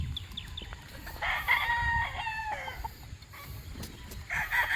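Broodcocks and broodstags, some Boston Black, crow at a yard of tethered gamefowl, with several drawn-out crows overlapping at moderate distance over low rumbling background noise.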